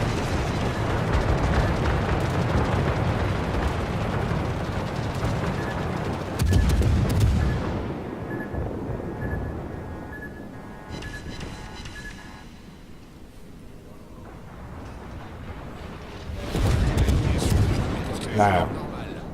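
Heavy explosions boom through a World of Warships naval battle as torpedoes strike the ship Dunkerque, with loud blasts near seven and seventeen seconds over steady rumbling combat noise.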